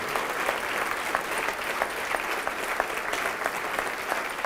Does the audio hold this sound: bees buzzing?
no